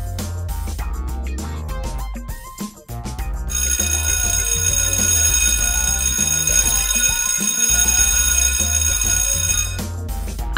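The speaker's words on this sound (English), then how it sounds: "The alarm goes off right as he opens the door." A shop burglar alarm goes off as a door opens, a loud, continuous electronic ringing that starts after a short pause and sustains over rhythmic background music.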